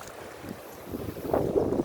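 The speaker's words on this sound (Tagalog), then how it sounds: "sa lakas ng hangin at pabugso-bugsong ulan" Strong wind roars and buffets the microphone on a seashore amid gusty rain, a low rushing noise that swells louder toward the end, with no voices.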